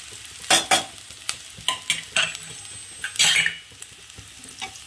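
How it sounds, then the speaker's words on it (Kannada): Onion and garlic frying in a pan for a tomato gojju, with bursts of stirring and scraping over a soft sizzle, several sharp utensil strokes spaced irregularly, close and fairly loud. "ಈರುಳ್ಳಿ ಬೆಳ್ಳುಳ್ಳಿ ಎಲ್ಲ ಚೆನ್ನಾಗಿ ಫ್ರೈ ಆಗಿದೆ."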